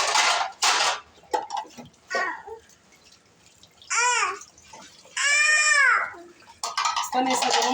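Dishes being washed by hand after breakfast, with running water, clinking plates and cutlery in short bursts, while a child babbles and cries nearby.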